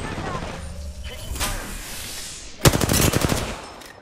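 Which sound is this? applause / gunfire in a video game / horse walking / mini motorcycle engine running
gunfire in a video game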